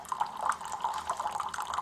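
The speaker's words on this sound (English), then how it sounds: "you can see it's draining the water out there." A Keurig B140 coffee maker drains water in a steady trickling, gurgling stream with small drip-like splashes, close and moderately loud.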